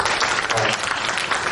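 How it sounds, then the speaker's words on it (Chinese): Audience applause at a Purtier placenta product testimonial event in Batam, a dense, steady roar of many hands clapping together, close and loud for the whole short stretch. "我们给阿明一个掌声。"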